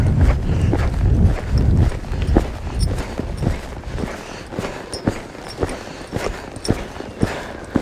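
Horse hoofbeats in a lope, a series of close, loud, rhythmic thuds in steady three-beat cadence, alone with faint background noise and little talk.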